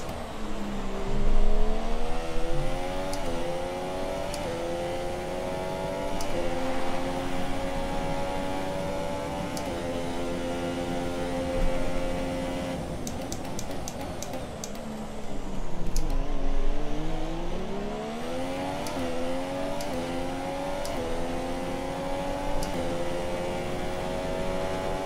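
A race car engine drones steadily in an Austrian sim race, its pitch rising and falling through gear changes with repeated upshifts and a dip under braking before climbing again, loud and continuous throughout.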